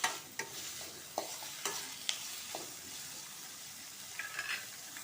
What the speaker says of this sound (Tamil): இதில் ஒரு நாலு கருவேப்பிலையை போட்டுக்கலாம் இதையும் நல்லா நம்ம சேர்த்து ஹை ஃப்ளேமில் வச்சு நல்லா வதக்கிக்கலாம்